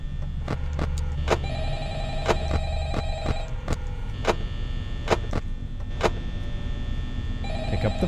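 Telephone ringing in the video game Five Nights at Freddy's, a loud repeated electronic ring recurring in regular bursts, alone without talk.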